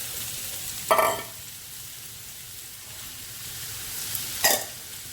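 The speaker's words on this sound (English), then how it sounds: "Into the olive oil goes my sofrito, or mirepoix, or carrots, onions and celery" Carrots, onions and celery sizzle in olive oil for spaghetti Bolognese, a steady close frying hiss broken by two sharp stirring bursts about three seconds apart.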